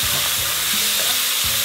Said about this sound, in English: so I'm going to add my tomatoes